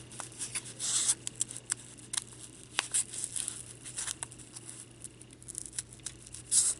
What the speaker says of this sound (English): make sure you have a really nice sharp pair of scissors, because you'll be very frustrated very quickly